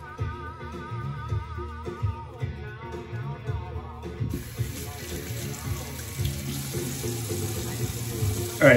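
A tap runs steadily as someone rinses off a soap bar in a sink or shower, the water close and continuous, with a voice talking over it for much of the time.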